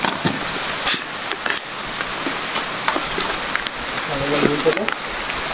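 Heavy rain pours outdoors in a steady hiss with scattered sharp drop hits, while someone speaks briefly over it near the end.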